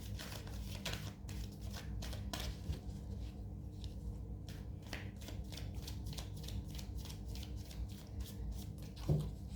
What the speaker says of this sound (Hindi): साथ में कुछ कार्ड्स और पुल करना चाहूँगी मैं